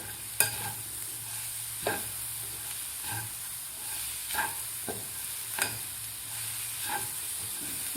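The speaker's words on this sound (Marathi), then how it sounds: "आपल्याला 2 मिनिटं हे सारण परतून घ्यायचं आहे." A spoon scrapes and stirs a jaggery filling for Maharashtrian patoli in a pan, with quiet, evenly spaced strokes about every second and a half over a soft, steady sizzle.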